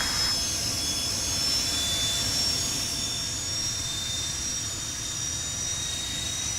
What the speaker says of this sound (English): We're starting this engine here first.